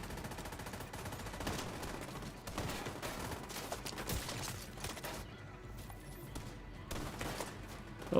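Sustained automatic gunfire from a heavy gunner enemy in The Division 2 video game, dense rapid bursts and overlapping shots running throughout at steady loudness.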